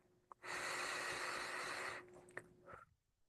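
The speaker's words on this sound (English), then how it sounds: "We'll breathe it out." A single slow exhale, breathy and close, carries on for about a second and a half during guided breathing, then tapers into a few soft sniffs and small mouth sounds.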